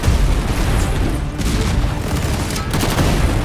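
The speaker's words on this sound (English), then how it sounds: "We built a whole town in Namibia and then blew the whole town up." Large explosion blowing up a purpose-built movie-set town in the Namibian desert, a dense, sustained roaring rumble with crackling debris, loud and continuous throughout with a few sharper bursts on top.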